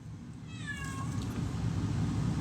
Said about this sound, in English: I like how our cat screamed in the background.